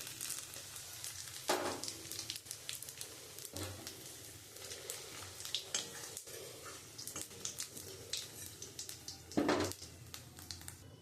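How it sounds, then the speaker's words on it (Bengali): Dry red chillies, bay leaf, cumin and whole garam masala fry in oil left from a rohu fish head, giving a steady, soft crackling sizzle with occasional sharper pops and stirring, heard close and without talk. "আমার ওই মাছের মাথার যে তেলটা রয়েছে আমি ওই তেলের মধ্যে আমি শুকনো লঙ্কা তেজপাতা জিরে আর গোটা গরম মশলা আমি দিয়ে দেবো"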